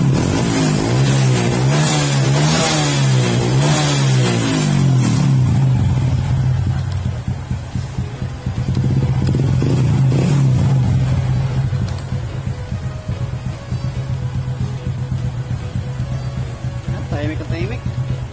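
An engine with new valve seats and piston rings that still smokes runs and revs, rising and falling in pitch, then settles into a steady idle; a person speaks in Filipino over it.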